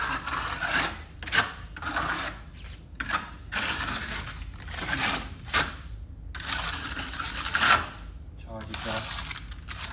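A trowel works creamy Ardex A46 multi-purpose repair mortar into concrete, producing a series of repeated scraping and smearing strokes, each a few seconds long, up close, with a voice talking at times.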